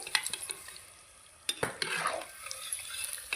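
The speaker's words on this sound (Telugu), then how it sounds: "ఇట్లా కలుపుకుంటే ఇట్లా కాలంగానే ఒకసారి మర్రేసుకోవాలి" Fish pieces fry in a pan for a crispy Telangana-style fish fry, a steady crackling sizzle broken by scraping stir strokes around the middle, close and alone without voices.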